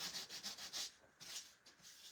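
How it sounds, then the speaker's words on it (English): A small handheld sander rubs across wood in short, rhythmic strokes with brief pauses, a close, fairly quiet scratchy rasp. "If you don't have a little sander like this"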